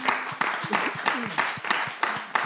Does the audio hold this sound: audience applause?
yes